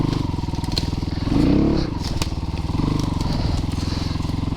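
A Christini AWD 250DS all-wheel-drive dual-sport dirt bike chugs close by with a loud, pulsing single-cylinder beat, swelling briefly as the throttle opens before settling back to a rough, steady idle-like thrum.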